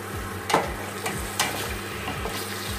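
Pork meat for goulash frying in a pan, a low steady sizzle with stirring scrapes and a few sharper clatters of the utensil against the pan, close and alone.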